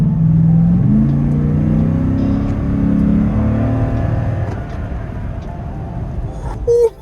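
Deep engine roar from a second-generation Toyota Sequoia pushed into hard acceleration, loud and close, building to a sustained rumbling rev that eases off near the end.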